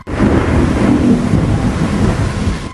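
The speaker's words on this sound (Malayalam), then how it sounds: "പുറത്ത് മഴ വരുന്നുണ്ടെന്നാ തോന്നുന്നത്" Steady rain outdoors with a deep thunder rumble rolling underneath, a dense, continuous wash of noise that stays loud and even throughout with no voices.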